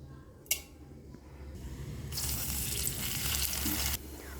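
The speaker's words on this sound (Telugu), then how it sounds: "ఇప్పుడు అదే ప్యాన్లో ఒక గరిట ఆయిల్ వేసి పోపు పెట్టుకోవాలి" Spices for tempering crackle in a ladleful of hot oil in a pan for coconut potato curry, a sharp pop at the start, then a steady sizzling hiss that swells and cuts out near the end.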